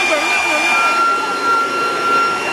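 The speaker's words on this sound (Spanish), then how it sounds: "su aspiradora mágica por momentos le fallaba" A vacuum cleaner runs with a steady broadband whir and high tonal whine, fairly loud and continuous, with slight surges in level, at a school cleanup after a celebration.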